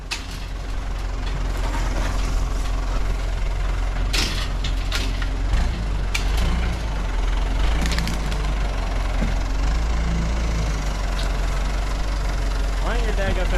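A backhoe engine idles with a steady, loud low rumble that runs the whole time, broken by a few clanks and knocks, while people talk nearby.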